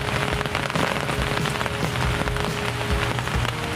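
Steady rain pattering on a surface during a feeder fishing session in wind, a dense continuous hiss of drops with no talk.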